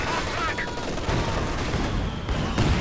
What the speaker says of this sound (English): Nice incendiary barrage.